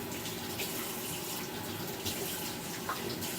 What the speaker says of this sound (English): so I can just dump this straight inside of the sink